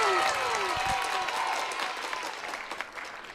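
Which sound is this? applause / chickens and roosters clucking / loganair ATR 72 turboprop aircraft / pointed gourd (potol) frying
applause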